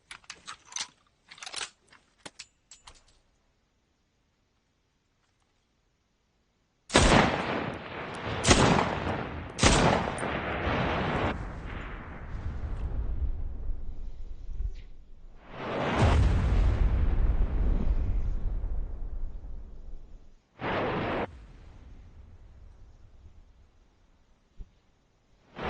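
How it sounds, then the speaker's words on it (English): Rocket artillery barrage in the World War II shooter Enlisted: several heavy, roaring volleys of launches and blasts, close and loud, separated by short gaps after a few faint clicks at the start. "Alright, it's rocket artillery time."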